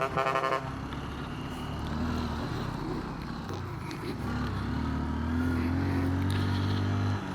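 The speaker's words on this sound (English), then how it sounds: "Big truck, Sean." A big truck passes on a mountain road in northern Vietnam, a loud, steady engine rumble that swells and holds over about seven seconds, with a short horn-like tone at the start.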